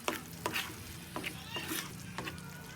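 Jolly mushrooms stirred in a hot pan, a soft steady sizzle broken by several scraping stirs of a utensil, close and fairly quiet.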